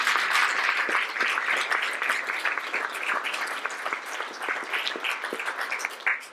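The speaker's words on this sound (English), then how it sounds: "One more round of applause." Audience applause at a book launch party, a dense burst of many hands clapping continuously at close range, holding steady for several seconds with no talk.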